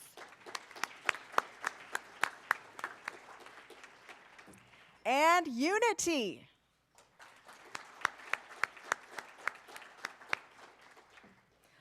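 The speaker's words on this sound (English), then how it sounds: "Round of applause." Audience applause for sponsors at a development industry dialogue event in Surrey, heard as a crowd clapping steadily with some individual sharp claps, briefly broken by a loud swooping electronic tone before clapping resumes, with a voice speaking.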